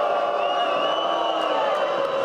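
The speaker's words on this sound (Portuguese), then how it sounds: "a torcida amazonense vaiou os jogadores do Nacional na saída" A large football stadium crowd of Amazonas supporters jeers the Nacional players heading to the dressing room, a dense, continuous roar of booing and shouting that stays loud throughout.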